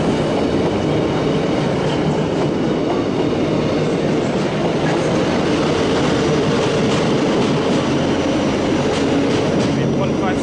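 A passenger train, a class 156 unit bound for Preston, rumbles through Manchester Piccadilly station in a steady, loud roar with faint rhythmic wheel clatter, sustained from start to finish without any talk.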